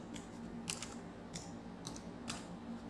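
Light, quick clicks of typing on a computer keyboard, a few soft bursts spaced irregularly over a quiet background with no talking.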